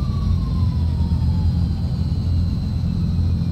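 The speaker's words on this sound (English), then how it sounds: "So, cut off there on the number one. We'll just watch the engine run down." A Transall C160 turboprop engine spins down after shutdown in a flight simulator, a steady low rumble with a faint whine slowly falling in pitch, heard alone.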